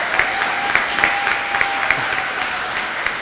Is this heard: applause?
yes